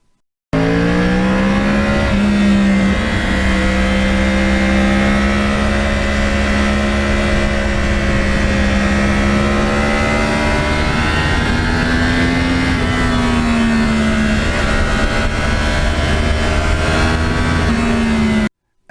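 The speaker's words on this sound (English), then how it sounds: "the sound of the CROSSPLANE is very unique, very different than a 1, 2, 3, 4 engine" Yamaha R1 crossplane motorcycle engine on slippery back roads in autumn, a loud continuous throaty drone whose pitch rises and falls with the throttle, close and steady for the whole stretch, with no talking over it.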